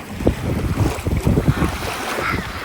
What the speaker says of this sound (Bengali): ডিঙ্গি নৌকা ভাড়া করে আমরা এখন নৌকা চালাবো